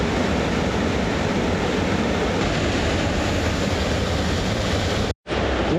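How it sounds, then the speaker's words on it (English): A waterfall pouring down toward Shadow Lake in the Ansel Adams Wilderness, a continuous broadband roar heard from a distance, steady throughout apart from a sudden momentary dropout near the end. "I can hear a waterfall."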